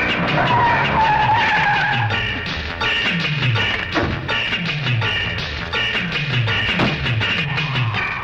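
A car drives off with loud, repeated tire skidding and squealing, each squeal sweeping through in quick succession over a continuous engine roar, close and prominent with no talk.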